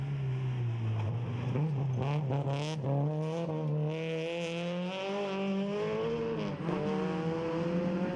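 A small Toyota Etios rally car driving hard on a national championship rally stage, its engine note rising and falling through gear changes with sustained high revs, heard loud and near throughout with no talk.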